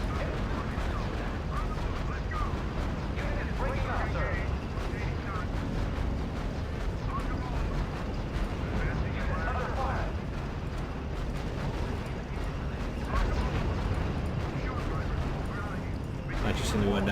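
Gunfire and artillery from the World War II strategy game R.U.S.E., Kasserine Pass campaign, with Panzer IVs in the fight: a dense, continuous roar of shots and blasts that stays loud throughout, with a player talking over it.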